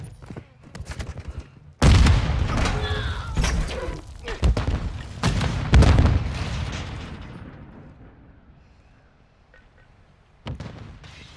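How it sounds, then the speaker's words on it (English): An explosive charge detonated in a video game sets off a loud, close boom with overlapping blasts that slowly die away into a long rumbling tail, then a last short burst of noise. "set a charge on the target and detonate it"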